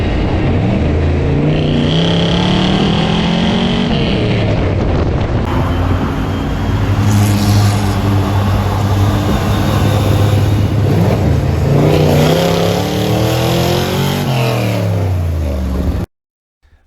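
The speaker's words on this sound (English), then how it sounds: "You drive race trucks down the streets and people just love it here." Race trucks at the Baja 1000 rumble and rev loudly through town streets, engine tones rising and falling as they pass close by, with heavy wind buffeting the microphone before an abrupt cut to near silence.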